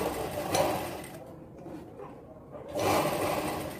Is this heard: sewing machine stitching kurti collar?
yes